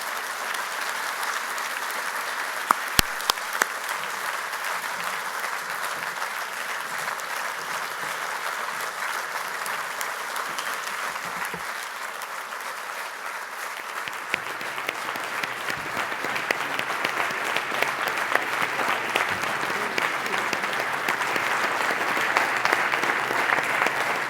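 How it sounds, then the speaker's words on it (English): An audience at a press freedom award ceremony for the Golden Pen of Freedom applauds steadily and warmly, a dense, sustained clapping that swells slightly toward the end with no talk over it. "Ladies and gentlemen, please join me in applauding Maria Ressa, the 2018 laureate of the Golden Pen of Freedom."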